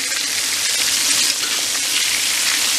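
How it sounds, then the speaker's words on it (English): Pork chops sizzle and crackle in a cast iron skillet, a dense, steady frying hiss with no pauses running close and fairly loud throughout. "Once it started to sizzle, now I'm just turning them."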